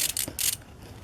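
A ratchet wrench clicking on the EGR valve screws of a 2012 BMW X5 35d diesel, two quick close bursts of ratcheting followed by quieter handling noise.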